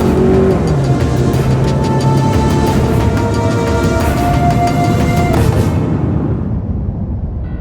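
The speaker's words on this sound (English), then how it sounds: "due to this abrupt steering maneuver, the vehicle starts to skid" A car skids after an abrupt evasive steering maneuver in a driving-safety simulation. Loud, close engine noise runs throughout with wavering squeal-like tones, then fades over the last two seconds, with no talking.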